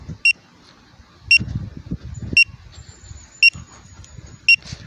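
A Bluetooth key finder anti-loss alarm beeps on disconnection, five sharp, evenly spaced high chirps about a second apart over faint low background rumble.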